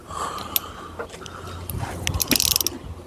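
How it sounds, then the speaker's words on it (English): A socket wrench ratchets on a 1981 Honda Goldwing, with close clicking pawl sounds, scattered metallic clinks and a denser flurry of rapid ratcheting toward the end, with no one talking. "There's a sparky wrench or spark socket that works all right."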